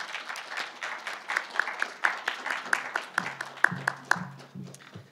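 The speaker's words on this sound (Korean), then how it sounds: "박수 부탁드립니다." Audience applause at a 2018 Korean film awards ceremony as a presenter comes up for the best new actor award; sparse, distinct hand claps in a steady rhythm, with faint background sounds entering near the end.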